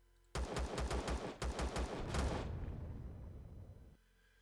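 Rapid, loud gunshots ring out as an enemy is shot in the space survival game Empyrion. A burst of about ten close, punchy shots is followed by a long, rumbling decay.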